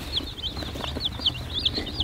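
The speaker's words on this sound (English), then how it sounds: "We do have 60 chickens here." Several red broiler chickens on a farm cluck and chirp in short bursts, fairly close, over a low background murmur.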